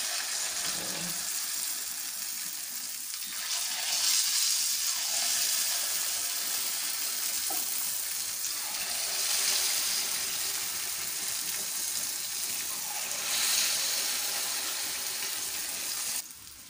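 Unniyappam batter frying in well-heated oil, a steady, loud, hissing sizzle that holds evenly throughout with slight swells and no talking.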